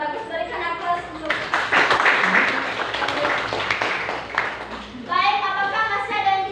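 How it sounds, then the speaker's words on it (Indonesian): A class of students in an Indonesian classroom claps together, a burst of applause lasting a few seconds, with a voice talking just before and after it. "Berikan aplaus untuk"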